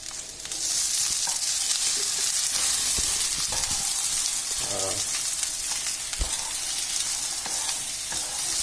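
Rice and eggs sizzle hard in a hot pan as they are stirred and mixed, a loud steady frying hiss with a few clicks and scrapes of the utensil.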